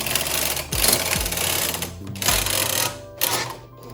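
A knitting machine carriage slides across the needle bed, selecting needles for a cow-print pattern. A few close mechanical rattling sweeps and clunks come one after another.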